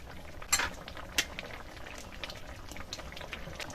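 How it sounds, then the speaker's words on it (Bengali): Fish curry with raw mango and pumpkin bubbling gently in a pot with spices, a faint steady simmering burble with a couple of soft clinks of a spoon near the start. "ভাজা মশলাটা দিয়ে 30 সেকেন্ড মতো ফুটিয়ে নিয়েছি"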